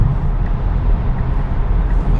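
Steady low rumble of merging car traffic on a road, heard from inside a Tesla driving on Full Self-Driving, a loud, constant road and engine drone with no talk.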